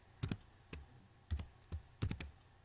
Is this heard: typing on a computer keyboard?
yes